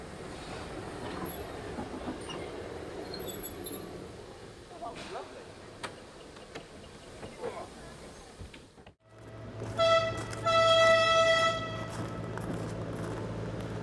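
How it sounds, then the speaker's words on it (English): A reenactment boat train on the Isle of Man railway pulling into Port Erin station: rumbling carriages and wheel clatter, then sharp squealing wheels and a sustained whistle-like tone as it arrives, with voices in the background. "Finally, the legendary boat train reenactment pulls into Port Erin's station"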